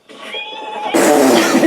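A horse whinnies in Zelda Breath of the Wild with a short, clear, rising call that swells into a louder, rougher burst partway through. Nobody talks over it.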